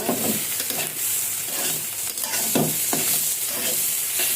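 Dal being tempered in hot oil, a loud continuous sizzle with bursts of stirring and spitting throughout, close and steady, without talk.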